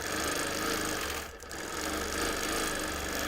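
A sewing machine free-motion quilts a baby quilt with a rapid, continuous mechanical whir that runs loud and close throughout, dipping briefly to a near pause midway before resuming at full speed.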